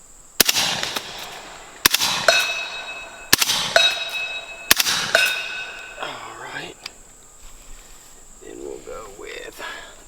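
A suppressed 10.5-inch 300 Blackout rifle fires Fiocchi subsonic rounds through a Hybrid 46 silencer at an outdoor range: four sharp muffled cracks about a second and a half apart with ringing tails, over insect chirping, followed by brief talk.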